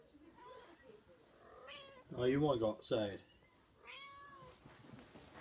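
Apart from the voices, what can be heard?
cat meowing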